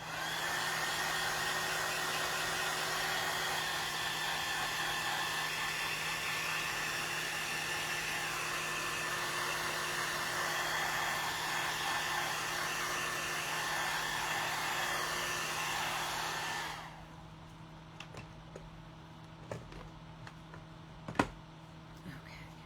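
A handheld heat dryer blowing steadily on freshly painted pink acrylic on a craft piece, a loud continuous whirring hiss that cuts off abruptly near the end, leaving faint taps and handling noises.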